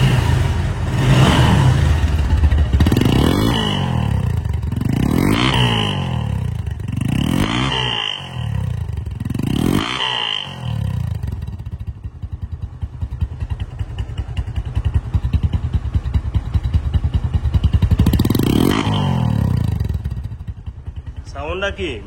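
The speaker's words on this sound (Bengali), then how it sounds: "বাইকটির আগে সাউন্ড কোয়ালিটি শোনাবো" A 135 cc Bajaj Discover motorcycle engine runs steadily throughout, with repeated surging revs in the first half and another near the end, close and loud.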